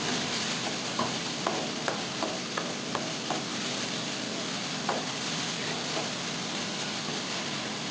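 Onions and tomatoes sautéing with rock salt for a prawn curry, giving a steady broadband sizzle with a run of light, regular spoon-scraping ticks against the pan through the middle, no one speaking.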